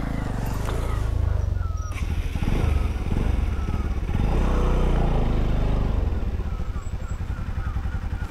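Motorcycle engine running steadily on a bridge crossing where only one bike may pass at a time, en route from Pokhara to Parbat; the loud, close, continuous drone fills the whole stretch, with faint voices underneath.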